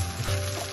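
Pancake batter sizzling steadily in a hot buttered pan, a loud close frying hiss with no voices.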